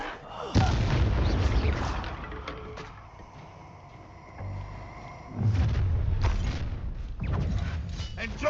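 Incendio fire spells cast in combat in Hogwarts Legacy, heard as heavy booming bursts and crackling impacts with rumbling tails, loud and close, with a quieter lull midway.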